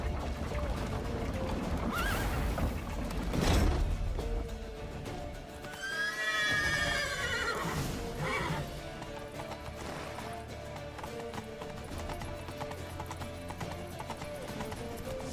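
Horses clatter at a gallop with rapid hoofbeats in The Witcher 3: Wild Hunt, and a loud whinny rises in the middle over a busy, dense background.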